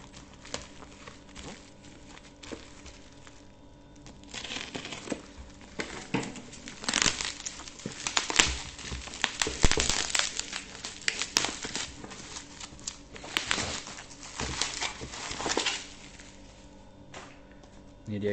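Cardboard and plastic packaging for a Xiaomi 70mai A400 dashcam crinkles and rustles up close as the box is opened and handled, in irregular bursts that grow busier toward the middle.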